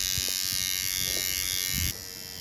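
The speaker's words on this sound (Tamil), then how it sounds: "அந்த முடியை நம்ம வந்து கட் பண்ணி எடுத்துட்டோம்" An electric clipper cutting through a cat's fur buzzes steadily and loudly up close, with faint background sounds, then drops in pitch near the end.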